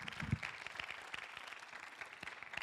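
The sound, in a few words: applause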